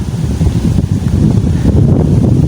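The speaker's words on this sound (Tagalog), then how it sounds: "Mahangin." Steady wind buffets a microphone at a fishing spot, a continuous low rumbling roar with no pauses and no voices.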